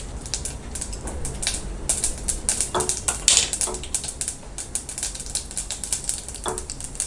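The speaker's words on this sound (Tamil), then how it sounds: "கடுகு நல்லா பொரிஞ்சிட்ருக்கு." Mustard seeds popping and crackling in hot oil while tempering murungai keerai sambar, a dense run of sharp, irregular spits and pops close by, with no talking.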